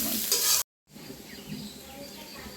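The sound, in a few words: onions being stirred and fried in a pan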